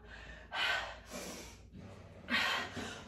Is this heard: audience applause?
no